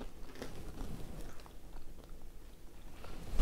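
Crisp, close bites and chewing of crunchy vegan cheese and onion crisps, a run of loud crunches and chomps with no talk over them.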